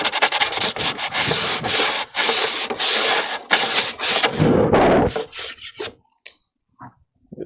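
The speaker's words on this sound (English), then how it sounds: "Determine that's the proper one to sand." Hand-sanding a plastic ShoreTrooper armor shin piece, with loud rough strokes in repeated bursts of varying length, close up, ending in a short quiet stretch with a few faint scrapes.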